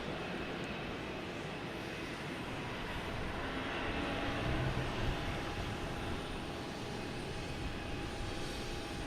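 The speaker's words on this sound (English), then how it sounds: "We have a JetBlue taking off on 4 right, heading to San Diego. An A321." A JetBlue Airbus A321 takes off from runway 4 Right at Boston Logan, heard as a steady broad jet roar that swells slightly midway and holds throughout at a moderate distance.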